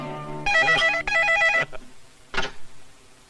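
A telephone rings in two loud, close bursts of trilling bell, each lasting about half a second, followed by a brief clatter and a short sharp sound, with no talking.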